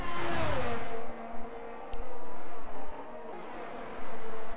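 A Ferrari race car engine in a racing video game on a Canadian circuit howls loudly, its high-revving tone dropping early then holding a steady drone, with a brief thin whine near the middle.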